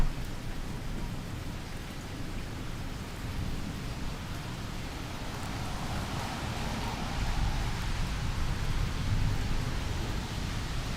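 Steady rain pouring during a Fort Lauderdale thunderstorm, with a low rumble of thunder swelling in the later part, dense and continuous with no talk.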